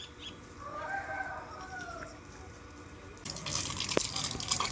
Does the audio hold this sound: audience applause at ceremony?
no